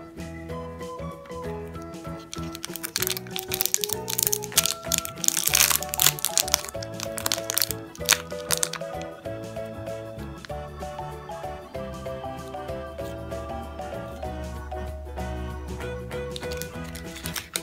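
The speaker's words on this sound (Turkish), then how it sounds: "Oyun hamurlarını açmaya başlıyorum." Plastic play-dough containers are pried open, giving close crinkling, cracking and snapping plastic sounds in bursts, with a music-box style tune playing throughout.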